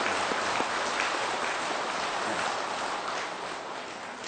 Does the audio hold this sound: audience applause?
yes